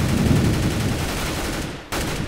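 A rapid burst of gunfire from an automatic weapon in Counter-Strike: Global Offensive rattles loud and close, with shots running together into a dense stream before a split-second gap and a final few rounds.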